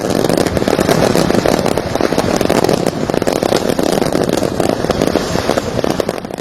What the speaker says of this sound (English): Probably the most spectacular fireworks show we'll ever see in our lives.